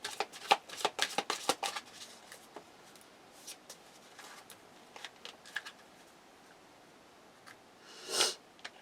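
Crystal oracle cards riffle and slide in quick, dense bursts early on, then settle into scattered soft flicks and shuffles, ending with a brief louder swish; close and fairly quiet, with no talking.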